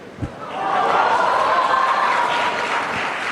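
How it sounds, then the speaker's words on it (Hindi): Applause from a young audience at a live televised youth event, a dense steady clapping that rises quickly after a brief knock and holds loud for about three seconds. "तालियों की गड़गड़ाहट से पता चल ही रहा है"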